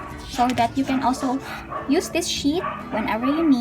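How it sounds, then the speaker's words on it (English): Dogs bark outside in short, repeated yips and bow-wows at mid distance, scattered under a woman's close, steady talk. "I'm sorry about the dogs."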